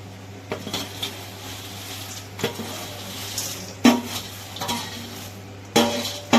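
Roasted spices are stirred into corn chivda in a pan. Quiet scraping and stirring fill the clip, with a few sharper clinks of spoon against metal, close and moderately loud, and no talk.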